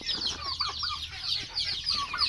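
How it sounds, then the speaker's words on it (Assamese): Several chickens cluck and chatter continuously nearby on a poultry farm, busy overlapping calls with a low background hum. "এইফালে মোৰ ফাৰ্মৰ অলপ মুৰ্গীও আছে"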